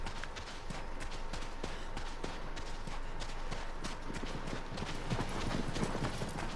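Horse hooves clip-clop at a steady running pace in the video game Shadow of the Colossus, a continuous close rhythm of hoof strikes over wind-like game ambience.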